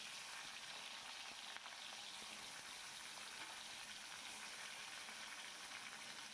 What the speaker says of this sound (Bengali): কড়াইতে সর্ষের তেল গরম করে নিয়েছি চারদিকে একটু ঘুরিয়ে নিলাম কড়াইটা একে একে মাছগুলো সমস্তটা ছেড়ে দেবো